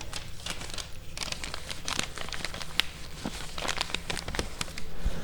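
A small sheet of paper is crumpled and handled up close, giving a continuous dense crinkling with sharp crackles and tearing-like bursts throughout, no talking.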